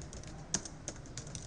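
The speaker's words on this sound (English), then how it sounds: "So you're going to start typing in the fan page." Quick, light keystrokes on a computer keyboard while entering a fan page name, a brief close run of soft irregular clicks with no voices.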